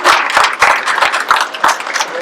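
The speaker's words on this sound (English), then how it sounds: "please give them a round of applause" Loud applause fills the space at a youth soccer club's college commitment ceremony, with claps and cheering voices from a crowd nearby, continuing without a break.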